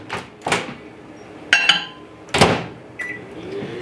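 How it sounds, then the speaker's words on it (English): A microwave is used up close to melt two tablespoons of butter: sharp clunks of its door and a few electronic beeps, with quiet pauses between. "I've got 2 tablespoons of butter here I'm going to melt in the microwave"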